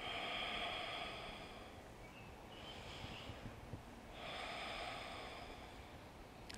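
Slow, deep breaths during a morning vinyasa yoga flow, two long airy exhales with a softer one between, close and steady with no talk.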